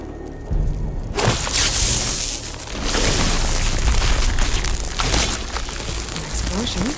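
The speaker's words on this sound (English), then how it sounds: "An explosion?" A loud boom bursts in Horizon Forbidden West, followed by sustained roaring, crackling debris and rumble that stays dense and loud for several seconds.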